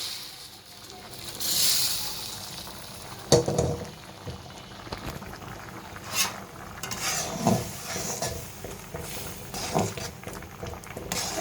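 Baghar tempering for a dal and vegetable curry hits the pot with bursts of hissing sizzle and stirring scrapes, spaced out over the clip while someone talks.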